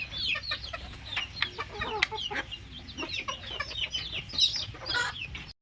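Hens in a backyard poultry house cluck and squawk close by in quick, irregular bursts, several birds overlapping with soft rustling underneath.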